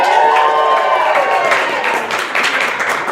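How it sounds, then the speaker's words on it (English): An audience bursts into loud cheering and clapping for a winner, with excited whoops over dense applause that stays close and full for a few seconds. "Cheer the winner."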